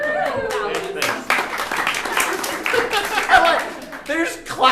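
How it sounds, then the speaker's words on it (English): Audience clapping at a live comedy podcast taping, a steady patter of many hands mixed with cheers and voices talking and laughing over it. "There's clapping for a random number that we've admitted is nowhere near accurate."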